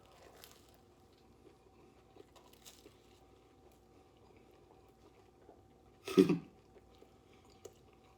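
A crunchy-crusted Reuben sandwich with soft bread and melted cheese is bitten and chewed close up: one short, crisp crunching burst stands out from a quiet room.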